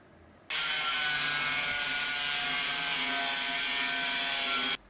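A rusty section of a 12-valve truck's steel frame is cut with a power tool, producing one loud, steady, grinding rasp that runs unbroken for about four seconds before cutting off abruptly.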